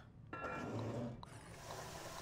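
Water fills up inside the Aperture Desk Job video game, a soft trickling, pouring wash that starts after a brief pause and continues quietly at low volume.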